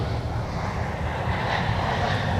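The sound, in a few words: airplane departing at MSP airport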